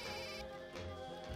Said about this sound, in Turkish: Benimki çalıyor duyuyorum ben